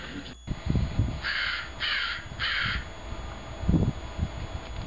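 Crow cawing outdoors near a baited feeder: three loud harsh caws in an even rhythm, fairly close, over rustling background noise.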